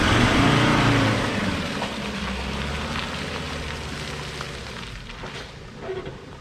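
4x4 driving through a muddy forest track in Kenilworth and Imbil State Forest, engine loud at first then easing back to a lower drone, with splashing and mud spatter over it.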